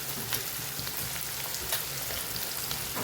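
Cabbage and onion with sesame seeds sautéing in a pan make a steady, soft sizzling hiss with faint crackles, continuous and unbroken for the whole stretch.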